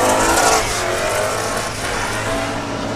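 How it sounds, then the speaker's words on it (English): A V8 drift car at a British Drift Championships qualifying run at Teesside roars past on throttle, a loud, raw engine note that swells then eases slightly as it moves away, with no talk. "That V8 engine sounds quite lazy."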